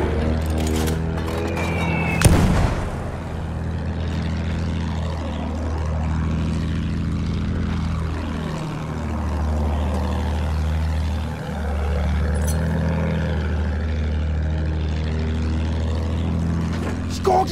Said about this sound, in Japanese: 飛行機だぞ。